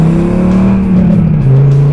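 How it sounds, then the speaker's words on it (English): A 2000 Dodge Viper GTS engine revs hard and accelerates, a loud, close, steady rumbling exhaust drone that climbs and dips in pitch without pause, with no voices over it. "an exhaust note like an offshore speedboat"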